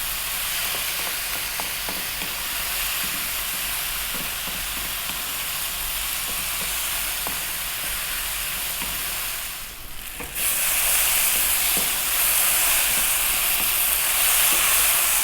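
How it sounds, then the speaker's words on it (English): Lentil soup vegetables fry over lively heat, a steady, fairly loud sizzle with intermittent stirring scrapes, the hiss swelling brighter after a brief dip partway through. "now we're going to go for 5 or 6 minutes on this kind of, you know, quite lively heat. And I'm going to be stirring it quite often."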